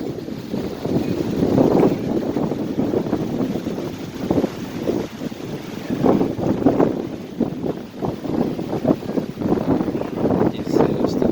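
Strong wind at Alamitos Beach gusts and buffets the microphone in loud, uneven surges, with waves faintly beneath and brief talk in the background.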